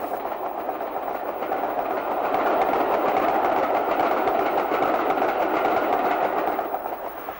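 A diesel-hauled afternoon parcels train to Paddington rolls past the Dolcoath milk sidings near Camborne, Cornwall, a loud, steady roar of engine and wheels with rhythmic clatter, swelling slightly mid-pass.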